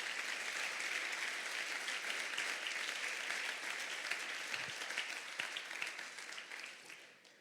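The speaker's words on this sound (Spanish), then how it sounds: "Dale un aplauso a Dios" A church congregation applauds, a dense, sustained wash of clapping that holds steady for several seconds and then fades toward the end, heard from a distance.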